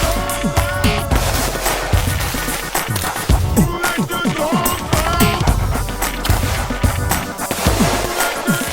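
Big banger fireworks going off in a rapid, dense barrage of loud cracking reports, continuous and close, with crackle filling the whole stretch.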